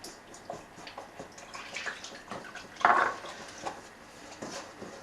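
Water from a tea glass is poured into a pot of Turkish yüksük soup, a soft splashing trickle that swells briefly near the middle, heard close and alone among faint kitchen clinks.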